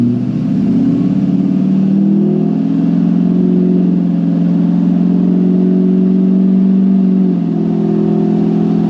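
A Duramax LBZ diesel pickup truck fitted with an HSP high-flow intake accelerates from inside the cab, its engine droning loud and steady with a low hum that rises and shifts in pitch across nine seconds.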